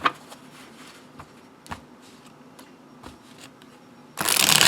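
Quiet clicks and soft taps of playing cards being handled, then a loud fast riffle of a new, never-shuffled first edition deck being shuffled near the end.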